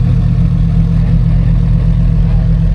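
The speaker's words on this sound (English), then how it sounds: "All the supercars are rolling out." Supercars including McLarens, Lamborghinis and a Ferrari SF90 rumble as they pull out at an LA car meet, a loud steady low engine drone holding level throughout.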